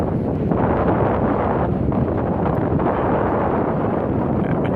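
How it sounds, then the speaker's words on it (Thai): Cold wind gusting steadily across the Mekong riverbank at Nakhon Phanom, a loud, continuous rushing roar buffeting the microphone with no break. "ลมพัดวอยๆ ลมหนาวมาแล้วนะครับ"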